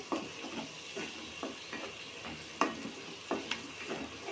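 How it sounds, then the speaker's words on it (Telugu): Tomato juice is stirred slowly into a fish curry cooking in oil in a pan, making soft, faint scraping strokes at a gentle, regular pace over a low sizzle, with one or two slightly sharper knocks. "ఇట్లా నిదానంగా కలుపుకుందాం"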